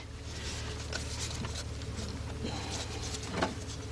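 Steady rain falls outdoors during valve cover gasket work on a 2001 Jeep Grand Cherokee Laredo 4.0, a continuous soft hiss with scattered light patters and taps, no talking.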